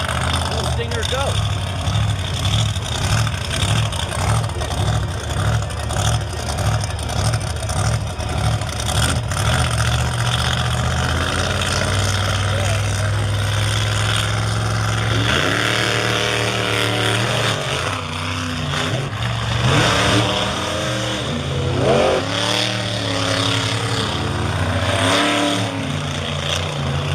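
Monster trucks Stinger, Unleashed and Toxic at an All Star Monster Truck Tour show on a speedway, engines idling with a pulsing rumble and then revving hard as they race, while an announcer talks over the loud roar.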